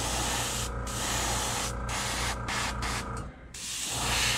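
An airbrush sprays deep orange paint onto a crankbait fishing lure, giving a steady close hiss in several bursts with brief gaps between them, alone with no talk.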